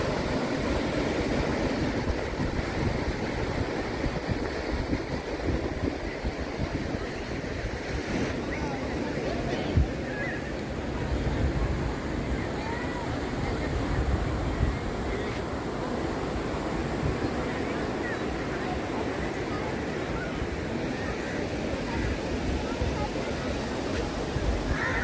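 Surf rolling in at Big Vagator beach in North Goa, a steady broad wash of waves with wind buffeting the microphone, continuous and close throughout, with faint voices in the background.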